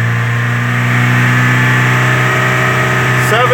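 A truck engine is held at high revs around 4000 RPM, a loud, steady, close-up drone that barely changes, with a small shift in tone near the end.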